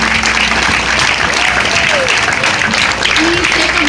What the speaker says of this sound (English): We do a lot of clapping.